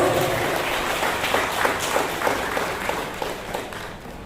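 Audience applause at an installation ceremony for a West Sumatran community organization's board in Sagulung, Batam: a dense, steady clapping wash of many hands at moderate distance, easing slightly toward the end.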